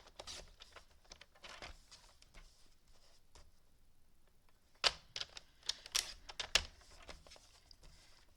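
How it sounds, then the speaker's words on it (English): Paper being trimmed for a handmade stamped holiday card: soft scraping and faint ticks at first, then several louder sharp clicks and cuts close by near the end, with no talking. "so let me go ahead and trim just a little tiny bit off each side."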